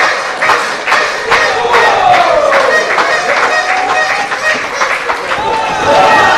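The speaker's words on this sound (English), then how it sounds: "The crowd firmly behind Love is Pain tonight." A wrestling crowd at an ECPW independent show roars and cheers steadily through the arena, loud and dense, with shouts and scattered thuds rising out of the sustained noise.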